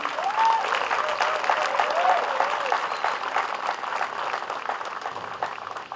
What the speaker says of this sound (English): Maintenant, un tonnerre d'applaudissements pour célébrer ces jeunes hommes et femmes aujourd'hui.